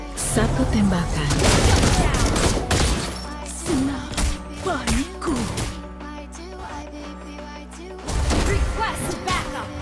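Gunfire and impact blasts from Granger in the Mobile Legends mobile game, a dense burst of loud crashing shots in the opening seconds, then scattered hits over in-game music and effects, with another loud flurry near the end.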